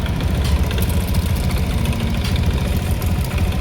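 A Honda Click scooter engine runs at a steady idle after a CKP sensor swap, a loud continuous mid-low hum with a fast even throb and no voices.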